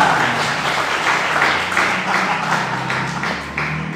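Congregation clapping during a church service, a steady run of rhythmic claps from many hands, moderately loud and continuous over a low murmur.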